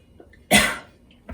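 A single sharp cough bursts out in a quiet room, followed by a faint breath or second small sound.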